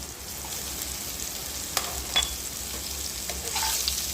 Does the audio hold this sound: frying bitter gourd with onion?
yes